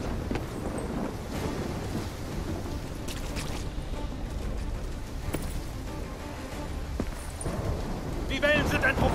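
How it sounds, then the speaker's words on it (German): Storm wind roars at sea in Black Ops 3, a rough, continuous broadband rush with gusty bursts and splashing surf, under voices speaking over it. "Der Supersturm ist zu stark. Der Sturm wird nur noch stärker."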